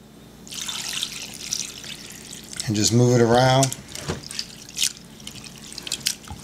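Spring water trickles and splashes as Irish sea moss is rinsed of sand and small rocks in a sink or bowl, a close, uneven liquid dribble running under a person's talk throughout.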